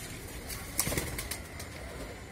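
A brief flurry of pigeons' wings flapping as they take off, over a steady background hiss, moderately close with no voices.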